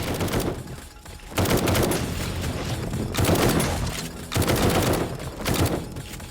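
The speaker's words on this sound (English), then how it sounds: "we might as well burn a few rockets" Rockets fire and explode during a Horde Night defense in 7 Days to Die, four or five heavy booming bursts, each a loud blast that trails off before the next.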